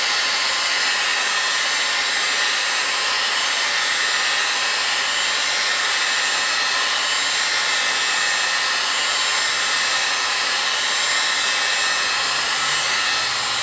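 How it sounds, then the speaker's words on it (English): Steady loud roar of a heat gun blowing continuously on a hydraulic cylinder part during a Kubota MX5000 loader cylinder rebuild, unbroken and alone. "I'm just using a heat gun."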